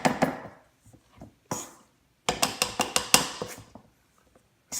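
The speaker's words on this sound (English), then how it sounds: "Let's mash it real good." Empanada filling being mashed by hand, a burst of sharp knocking and thudding strokes against a bowl with short pauses between, close and fairly loud, no talking.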